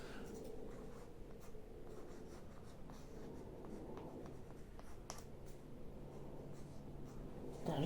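A pen scratches out a plant label for giant marigold seeds, a faint close-up stream of short strokes and taps continuing steadily with no talking.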